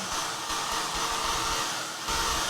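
A heat tool blows hot air over a wet mixed-media cigar box finish, giving a loud, steady whooshing fan drone that holds without pause and briefly swells near the end.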